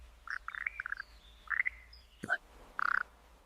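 A tiny black and yellow alpine frog from Australia calls in short chirping bursts, with a sharp knock midway and a final rapid trill, close and clear over quiet background.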